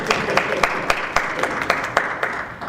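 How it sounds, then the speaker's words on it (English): An audience claps in a burst of uneven applause at a Bangladeshi community political gathering in Warren, Michigan, the claps sharp and scattered, tapering off toward the end. "I just want a round of applause for Kasha"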